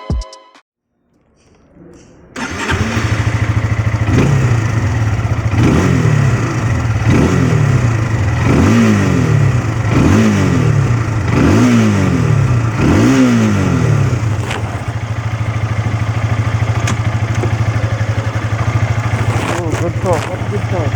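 A SYM VF3i 185 underbone motorcycle starts up, settles into idle, then gets a series of about eight sharp, rhythmic throttle blips before returning to a steady idle, loud and close.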